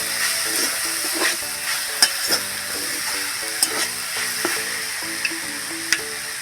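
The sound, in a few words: curry leaves sizzling in hot oil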